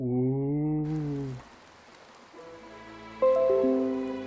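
Rain falls in the video game A Hat in Time as a soft, even hiss that sits between stretches of tonal game music.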